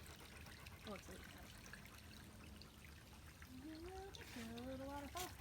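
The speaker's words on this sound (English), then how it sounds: "a little waterfall." A small waterfall trickles along a hiking trail, a soft steady stream of water running under quiet talk, with a few faint bird chirps.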